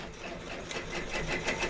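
An embroidery machine stitches a design for a door decoration, its rapid, steady mechanical chatter running close and continuous without any talk.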